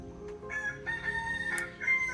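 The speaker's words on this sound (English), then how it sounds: "I'm competing with that rooster there, can you tell?" A rooster crows from a short distance, its drawn-out call rising over steady low background noise, with a second shorter crow near the end.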